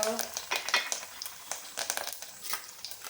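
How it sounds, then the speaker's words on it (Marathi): Cumin, mustard seeds, garlic, curry leaves and asafoetida sizzling in hot oil, with crackling pops and clinks of a spoon against the pan. "तेल गरम झालं आहे जिरं मोहरी त्यानंतर लसूण कढीपत्ता हिंग"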